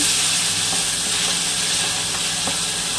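Onion, tomato and chili sizzle as they fry for tempering on an electric stove, a steady loud hiss with faint stirring clicks throughout, close and continuous, with no voices.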